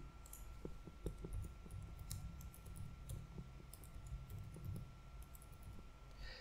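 Password entered on a computer keyboard, a quiet run of scattered key clicks and taps at an irregular pace against a steady faint hum, with no one talking.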